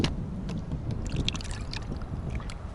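Bar's Leak head gasket sealer glugs and splashes as it is poured into the radiator of a Toyota Century, a close, continuous liquid gurgle with small bubbling pops.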